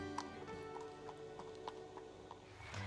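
Horses' hooves clip-clopping at a walk near a circus, a steady series of soft, moderately close hoof strikes over a constant low background hum.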